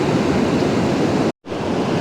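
Steady rushing of attraction water pumped out of a fish hatchery chute, a loud even wash of noise that briefly cuts out before resuming.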